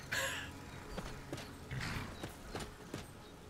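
Horse hooves clip-clop at a steady walking pace in the Wildlander video game, a run of moderately loud, evenly spaced knocks with no talking over them.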